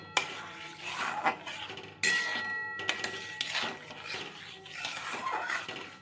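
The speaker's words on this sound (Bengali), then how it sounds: "এবারে পাউডারটা মিশিয়ে নিচ্ছি" A spoon stirs milk powder into milk, clinking repeatedly against the side of a metal pot in irregular bursts, close and moderately loud with no talking.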